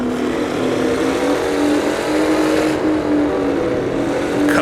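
Modernized 1960s Formula race car, the Pessio Porknose, in Assetto Corsa, with a steady, loud engine drone under partial throttle that holds a constant pitch, rising slightly in intensity toward the end.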